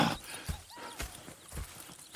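Horses clip-clop in the Red Dead Redemption 2 video game, with a steady rhythm of hoofbeats on the ground, moderately faint and continuing throughout.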